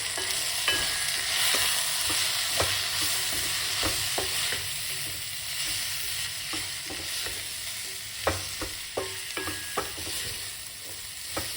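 Ginger stirred into an eggplant curry in a pot: a continuous hiss of frying broken by sharp spoon scrapes and clinks against the pot, close and steady with no talking.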